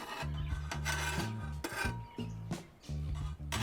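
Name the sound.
spatula scraping cooking eggs on Weber Q griddle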